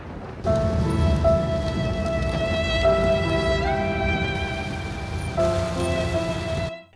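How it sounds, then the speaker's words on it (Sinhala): Steady, dense rain pours down, a constant wash of drops drumming on a surface, with faint tonal hum from a nearby source running underneath. "හිතාගන්නවත් බැරි විදිහට වහින්න ගත්තා"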